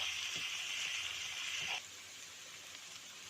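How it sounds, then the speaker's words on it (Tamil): Onions sautéing with turmeric powder in a pan, a steady bright sizzle and hiss that holds strongly for nearly two seconds, then drops to a quieter ongoing sizzle, with faint clinks and stirring knocks. "மஞ்சள் தூள் சேர்த்துட்டு நல்லா வதக்கிக்கோங்க. வெங்காயம் நல்லா சாஃப்ட் ஆகிற வரைக்கும் வதக்கிக்கோங்க"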